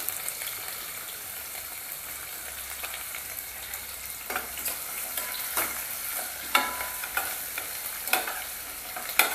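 Chopped onion sizzles steadily in a hot pan for chana dal pulao alongside whole spices, with intermittent scraping strokes of a spatula stirring it, growing more frequent toward the end; no talking.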